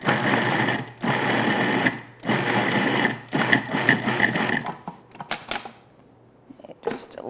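A food processor pulses a flour mixture into coarse crumbs for a peach tart crust, with several loud whirring bursts separated by short pauses, then quieter handling clicks at the end.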